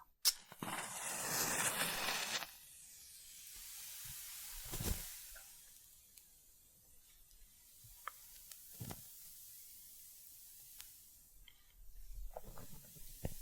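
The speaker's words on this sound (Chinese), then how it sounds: "你们喜欢烧火柴的声音吗？" Cheap matches are struck and burned right next to a microphone in a hushed ASMR setting: a long fizzing flare at first, then a few brief scratchy strikes and faint crackles separated by near silence.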